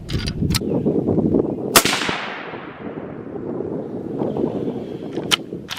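.25-06 rifle firing a Winchester Super X 120 grain round at a 100-yard range: a single sharp, loud crack followed by a long rolling echo fading over several seconds outdoors.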